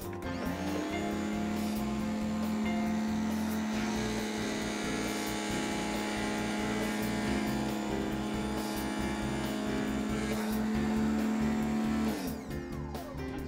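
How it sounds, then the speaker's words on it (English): A compact 23-pound General Pipe Cleaners water jet drain cleaner runs at a trade show, its pump motor holding a steady tonal whine and hum for about twelve seconds before it cuts off near the end. "a water jet that only weighs 23 pounds"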